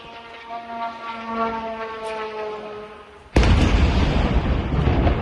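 Shahed attack drones over Odesa give a steady, engine-like droning buzz for several seconds. The drone is then cut off by a sudden, much louder broadband roar that continues to the end.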